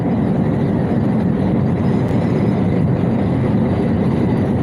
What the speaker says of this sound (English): That's what it sounds like when I hit the white line with my drive tire.